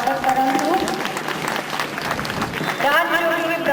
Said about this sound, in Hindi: आपण मैंने करताली द्वारा स्वागत करूँ।